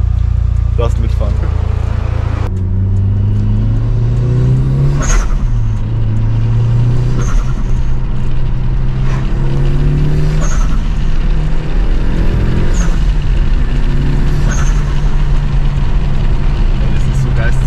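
Mitsubishi Lancer Evolution IX with an open HKS SSQV blow-off valve, heard loud from inside the car: a deep engine drone climbs through the revs, punctuated by repeated sharp whooshing turbo flutter bursts, with voices present.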